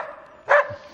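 A single short bark from one of a small team of sled dogs, sharp and fairly close, standing alone against a quiet background.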